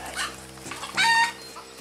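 Chickens in a farmyard give a few close, scratchy clucks and squawks, with one louder drawn-out call in the middle, and no one talking.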